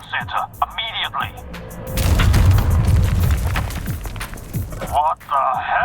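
Explosion in a video game, a loud, deep, rumbling blast with crackling debris lasting several seconds, preceded and followed by speech-like voices.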